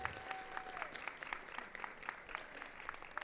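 Applause from an audience at a school board of education meeting, a steady patter of many hands clapping at moderate distance with faint crowd murmur beneath, lasting a few seconds.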